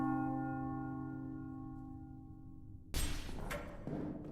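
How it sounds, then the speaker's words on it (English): A deep, ominous bell tolls in a Roblox elevator game, its steady harmonic ring slowly decaying for about three seconds before a sudden loud thump and noisy burst cut in. "Ominous bell."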